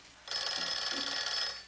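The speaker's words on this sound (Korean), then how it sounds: "그때 누군가로부터 전화가 오고" A telephone rings in a film scene, one steady, loud electronic ring that starts abruptly and holds for more than a second before tapering off, with no talk over it.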